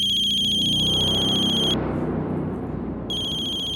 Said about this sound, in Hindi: सनी के राजकोट वाले घर के लैंडलाइन से फोन है।